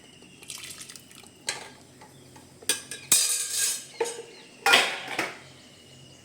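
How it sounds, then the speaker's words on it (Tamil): Water poured into a pressure cooker holding pulses to rinse them in a home kitchen, heard as intermittent close splashes and sloshing with metallic clinks of the pot, with quiet gaps between bursts. "இந்த தண்ணியை ஊற்றி நம்ம அலாசி ஊற்றிக்கலாம்"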